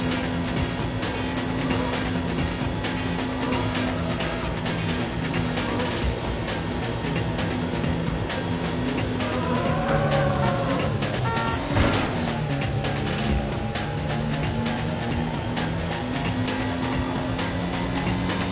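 Car racing in Need for Speed on PS1, a steady droning engine hum with sustained tones that rise and shift in pitch midway, running continuously without pause.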